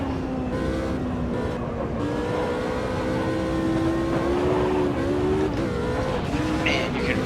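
Simulated race car in the Automobilista 2 racing game on a narrow track, engine droning steadily with shifting pitch and tires squealing as the car slides, loud and continuous throughout with no talk.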